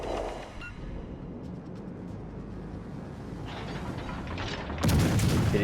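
Naval guns fire in a World of Warships Legends fleet battle, a few muffled booms and crackles under game ambience, ending in a loud, close blast near the end.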